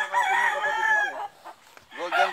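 A Sweater gamefowl rooster crows loudly and close by in one long drawn-out call, then starts another crow after a short pause.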